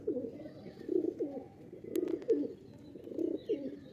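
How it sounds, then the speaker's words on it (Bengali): Tournament pigeons in a loft in Sankrail, Howrah, cooing in soft repeated low burbling phrases, close and fairly quiet, with a brief faint click partway through. "সো বন্ধুরা এই হচ্ছে পায়রা"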